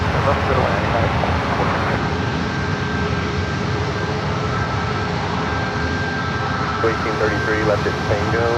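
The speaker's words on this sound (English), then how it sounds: "Got a Dreamliner now rolling down at 28 left." A Boeing 787 Dreamliner rolls for takeoff on runway 28 left at San Francisco airport, a loud continuous jet roar with a steady whine, heard from a distance under talk throughout.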